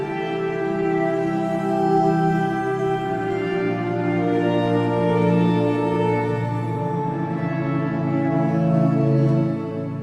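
Sustained, ethereal horn layers from the Maleventum Pompeii Kontakt sample instrument, a dense swelling chord that holds steadily for about ten seconds with no talk over it.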